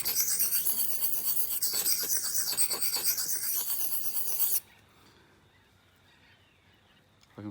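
A sharpener rasps along the blade edge of garden secateurs in steady, close, gritty rubbing strokes, then stops abruptly and leaves near silence with a faint click at the end.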